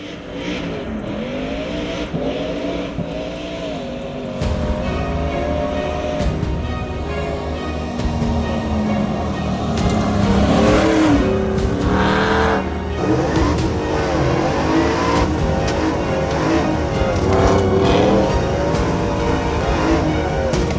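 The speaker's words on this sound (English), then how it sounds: "we're testing out the truck in an off-road environment right now" A 2016 Chevrolet Silverado Dirt King pre-runner truck drives off-road down a dirt road, its engine loud and close, revving and shifting in rising and falling pitch with rough bumps throughout.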